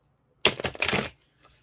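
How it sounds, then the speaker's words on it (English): A deck of oracle cards is shuffled close by in one quick, papery riffle lasting under a second, followed by near silence. "As I shuffle here for an oracle card of this evening"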